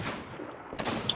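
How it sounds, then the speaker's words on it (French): Skeleton enemies firing guns in Sea of Thieves, a couple of sharp shots, the loudest near the end, heard at moderate distance over faint background noise. "Tout ce que j'entends, c'est des flingues des squelettes"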